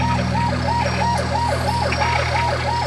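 An ambulance siren wails in a steady repeating up-and-down sweep throughout, loud and continuous over a constant low engine and road rumble, heard from inside or close to the vehicle during an urgent trauma patient transfer in heavy traffic.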